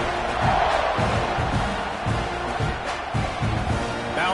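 A stadium crowd in an American football video game roars in a constant buzz, with low thumping swells pulsing through the steady noise.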